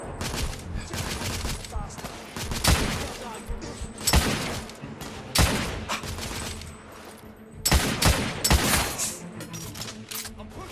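Gunfire in The Order 1886 video game: heavy bursts of rapid shots and loud cracks recur through a battle scene, with thumps and shattering mixed in, while voices call out under the firing.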